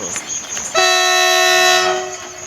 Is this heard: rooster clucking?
no